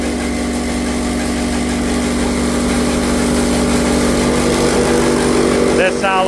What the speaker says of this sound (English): You can actually see the auger running in under there.